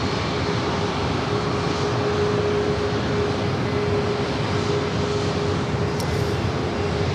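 A Southwest Airlines Boeing 737 MAX 8 at San Diego airport gives off a loud, steady jet roar with a constant whine, unbroken throughout and with no talk.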